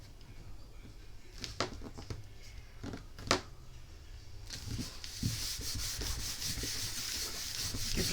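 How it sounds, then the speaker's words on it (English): Steady rubbing and sanding-like friction as a paper panel is pressed down onto a Valentine pop-up card, fairly close, with a few sharper taps and a brighter scraping texture in the second half. "Give it a good rub."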